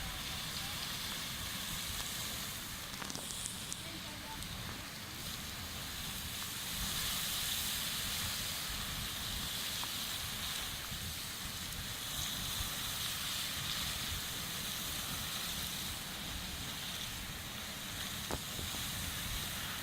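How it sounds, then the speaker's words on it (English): Pōhutu Geyser at Te Puia erupting, a continuous broad roaring hiss of rushing steam and water heard from nearby for the whole stretch, with faint sounds of people in the background. "And thus fires the beginnings of Pōhutu Geyser."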